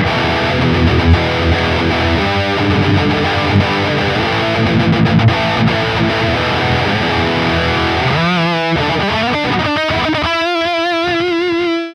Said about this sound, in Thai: เดี๋ยวเราไปฟังเสียงแตกกันดูดีกว่าว่าจะเป็นยังไงเริ่มจากฮัมเบอร์เกอร์ตัวแรกกันก่อนเลย